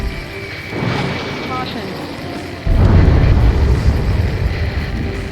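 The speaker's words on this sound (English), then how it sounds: "A huge explosion just went off underwater." In the video game Ace Combat 7, a deep, rumbling underwater explosion booms partway through, swelling into a sustained low roar over a steady background of game ambience.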